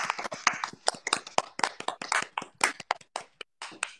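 Applause breaks out at a wedding-style celebration, a dense run of quick hand claps with uneven bursts, fairly close and continuous throughout.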